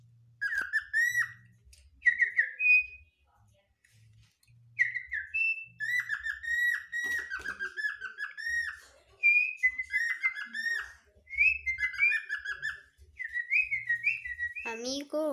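A pet parakeet whistles a series of clear, warbling phrases, rising and sliding notes repeated in short bursts with pauses between, close to the microphone, with faint low sounds underneath.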